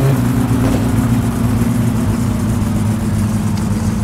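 A car engine runs steadily in the video game My Summer Car as the car is put into drive, a loud, close, low droning hum that holds evenly throughout with no talk.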